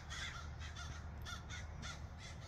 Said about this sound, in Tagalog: Yan yung mga uwak.